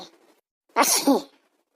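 A single sharp human sneeze, close and loud, preceded by a faint low murmur and followed by quiet.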